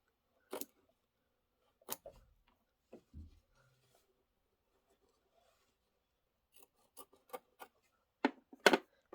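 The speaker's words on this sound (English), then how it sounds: "you can use a stronger pair of scissors that you can cut them all at once" Scissors cutting fabric pieces in sections for a sewing project: sparse, crisp snips close by, a couple early on and a quicker cluster of sharp cuts near the end, with quiet gaps between.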